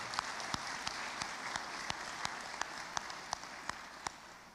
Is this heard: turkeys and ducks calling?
no